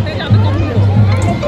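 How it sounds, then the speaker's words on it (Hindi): A crowded queue for the Pakistan pavilion at Expo City Dubai produces a steady murmur of many voices, with close talk in the foreground over the babble. "खतरनाक भीड़ है पाकिस्तान पवेलियन के लिए"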